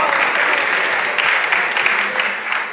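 A live audience at an onstage music and consciousness conversation breaks into brief, loud clapping that swells and holds for a few seconds, with a faint murmur beneath.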